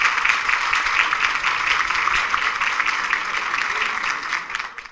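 Sustained audience applause at a tax management forum after a talk by Dr. Carlos Cintra, a dense, steady wash of many hands clapping at close range that holds for several seconds before tapering off near the end.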